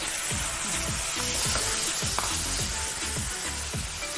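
Sauce for a sardine and tomato stew sizzles and fries steadily in a pan, with repeated stirring scrapes and a rhythmic series of low thumps as fresh tomatoes go in, no talking.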